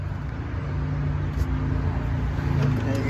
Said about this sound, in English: Then you'll have the car running.